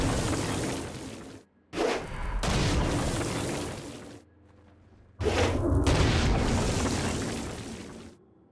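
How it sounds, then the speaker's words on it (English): A Stone Blast power in the 2015 video game Saints Row: Gat out of Hell, used against flying demons, bursts as loud booming, rumbling explosions, two long blasts separated by a short quieter gap. "Stone Blast is especially useful on flying demons like this one."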